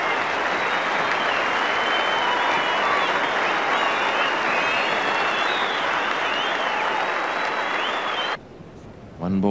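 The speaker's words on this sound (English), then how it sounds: "Everyone off the backside standing up, cheering him out to the middle" A large cricket crowd at a test match applauds and cheers steadily for several seconds, a dense wash of clapping that cuts off abruptly near the end.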